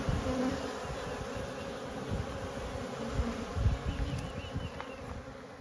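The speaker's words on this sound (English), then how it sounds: "some bees flying around" Honeybee swarm buzzing steadily as bees fly around near a hive box where the swarm was shaken, a dense, continuous close drone with a few louder passes of individual bees.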